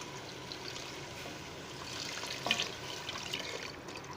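Water pours steadily into a pressure cooker with a continuous splashing rush, close by, rising slightly in the middle; about three glasses are added for dal makhani.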